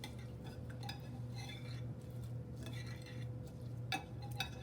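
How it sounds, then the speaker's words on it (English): A whisk mixes parsley and mustard sauce ingredients in a bowl for mustard chicken medallions, making faint, quick metallic clinks and scrapes against the dish at a soft, steady pace, with no voices. "And now we're just going to whisk all of that together."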